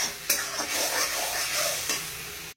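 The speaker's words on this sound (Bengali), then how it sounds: "এটাকে এবার একটুখানি কষিয়ে নিই, দিয়ে তারপর মাছটা দিয়ে দেবো।" Fish curry masala sautéing in a pan gives a steady close sizzle, with scraping stir strokes and a couple of sharper spatula knocks and no talking.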